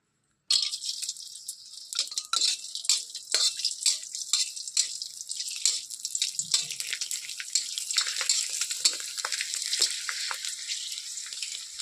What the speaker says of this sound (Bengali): তার জন্য আমি পাঁপড়গুলো ভেজে দিচ্ছি